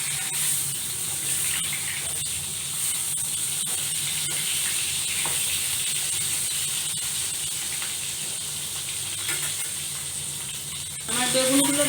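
Eggplant frying in oil over low heat gives a continuous, even hiss of moderate loudness, with a louder clatter right at the end.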